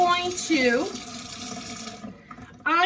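Water from a kitchen tap runs into a sink to wet a dish sponge. It streams steadily, then cuts off briefly and gushes again near the end, and a voice talks over it.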